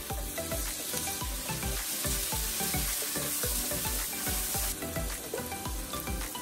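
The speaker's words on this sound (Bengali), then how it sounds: "আমি এখন আদা রসুন বাটা দিয়ে দিচ্ছি" Ginger garlic paste with garam masala sizzling and frying in a pan, a steady loud crackle punctuated by regular rhythmic scraping strokes of stirring, with no talk.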